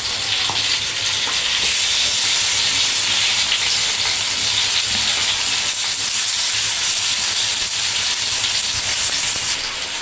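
Fish pieces hit a hot pan of fried onion and green chilli, giving a loud, steady sizzle and hiss that carries unbroken for about ten seconds with no talking.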